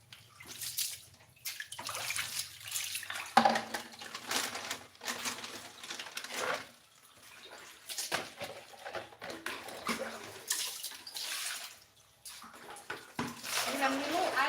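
Water is poured and splashed in uneven bursts while hands are washed with soap before cooking, close by and fairly faint, with someone talking over it at times.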